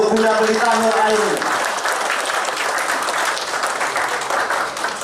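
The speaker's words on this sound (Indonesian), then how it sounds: "Tepuk tangan yang meriah untuk Bunda Pelita Nuraini." A crowd at an installation ceremony for an organization's regional board bursts into loud, sustained applause, many hands clapping together; a voice speaks briefly at the start.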